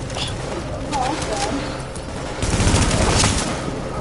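Rapid gunfire bursts crackle through a firefight in the video game The Division, with heavier sustained volleys toward the end and players talking over the shooting.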